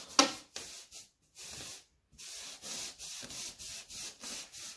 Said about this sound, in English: Now let's rub the balloon in the woolen towel.